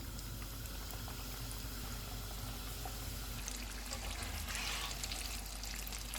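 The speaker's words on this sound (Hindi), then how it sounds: "अब इसमें हम चिकन डाल देंगे। चिकन को फ्राई करते हुए हम चूल्हे को लो टू मीडियम रखेंगे।" Chicken fingers frying in hot oil on a low-to-medium flame give off a steady, close bubbling sizzle that holds for the whole stretch and briefly rises toward the end, with no talking.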